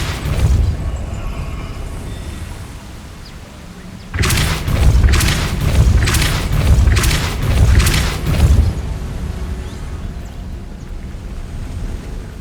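The Depulso spell is cast in the video game Hogwarts Legacy: a loud, booming burst sets off a run of heavy rumbling thumps lasting several seconds, over a low, steady game ambience.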